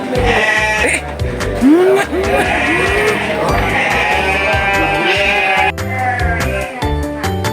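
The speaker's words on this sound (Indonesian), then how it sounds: "Domba Moreno namanya ini." Merino sheep bleating at a village livestock farm in Boyolali, several loud, near, wavering bleats overlapping continuously, with farm voices faintly underneath.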